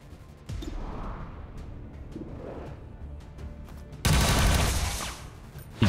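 Gunshots in XCOM 2: War of the Chosen, a sharp loud burst of fire followed by a rumbling stretch, then a second heavier volley that stays loud before a final hit.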